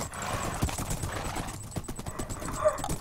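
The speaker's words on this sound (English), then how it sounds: "Oh no, it's the horse." Horse hooves clip-clop in a steady, close patter with a neigh rising near the end, heard in a video game over a busy backdrop of other game noise.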